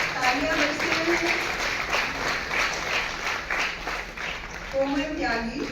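Applause from the audience at a teacher appointment letter ceremony in Chandigarh, steady clapping running the whole length, with an announcer's voice heard over it.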